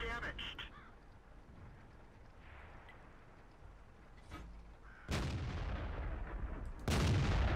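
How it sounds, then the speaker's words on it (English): A tank gun firing in World of Tanks: two loud, sharp blasts a couple of seconds apart, each trailing off in a rumble, after a quieter stretch of engine-like background noise. "Ah, the shot went low, darn it."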